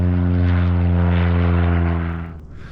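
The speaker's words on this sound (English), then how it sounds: "They take off pretty regularly here." A propeller airplane taking off at a Greenville–Spartanburg, South Carolina airport, a loud, steady close engine drone with strong low harmonics that fades away at the end.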